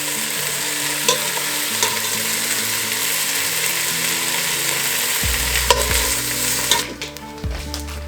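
Chicken pieces fry in a pot of hot oil for chicken and dumplings, a loud constant sizzle with repeated metallic clanks and scrapes of a utensil, close by and without speech.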